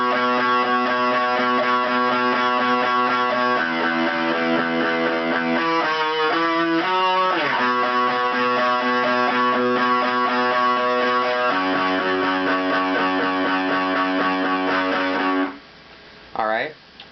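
Distorted electric guitar playing the single-note intro, bright sustained notes in a steady pattern with a few shifts, ending abruptly with brief fragments.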